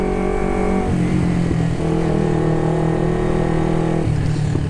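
A carbureted Kawasaki Ninja 250 motorcycle engine drones close up while being ridden, its pitch stepping up and down through several throttle changes and shifts, loud and continuous with wind rush.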